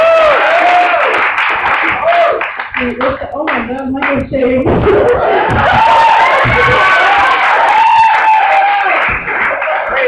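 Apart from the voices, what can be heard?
audience clapping and cheering at a student meeting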